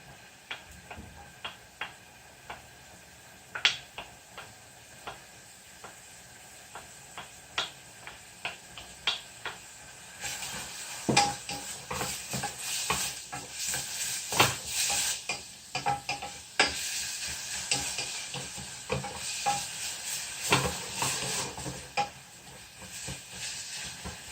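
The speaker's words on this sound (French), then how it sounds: "Quand le poireau commence à bien frire" Leek frying in a pan before onions are added for a curry made with S&B Golden Curry, with scattered crackling ticks at first, then a louder, denser sizzle with stirring clatter from the midpoint on.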